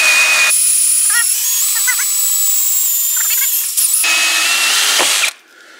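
A power drill bores a guide hole through the bottom of a Can-Am Maverick Sport XMR UTV fender, a loud steady whine that holds for several seconds, dips briefly, surges again and then cuts off.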